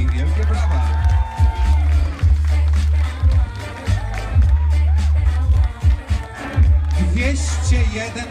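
A crowd claps and cheers loudly under an amplified announcer's voice at a Polfarmex Kutno basketball team presentation, with bursts of applause rising and falling.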